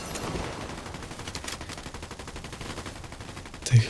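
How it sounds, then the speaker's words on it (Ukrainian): Gunfire in the video game Fortnite: a dense, fast run of crackling shots stretching throughout, moderately loud and somewhat distant, ending in a single heavier thump. "Бодряща стрілянина прям."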